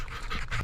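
A dog pants in quick, breathy huffs in the woods, close by and fairly loud, with a faint scratchy rustle behind it.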